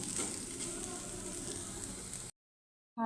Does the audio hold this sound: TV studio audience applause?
no